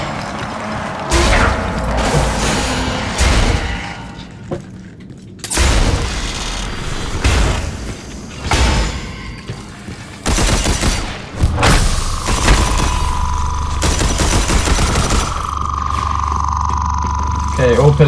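Pillars are blown apart in Red Faction Armageddon with repeated heavy blasts, thuds and crumbling debris, plus mechanical gunfire and a sustained hum, loud and busy throughout with someone talking in between.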